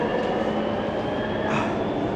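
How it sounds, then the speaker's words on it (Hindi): A Barcelona metro train standing at the station platform, a steady loud rumble and hum of the train filling the whole short stretch with no talk. "ये दूसरी तरफ मेट्रो खड़ी है जो कि दूसरी तरफ जा रही है अपोजिट साइड पे।"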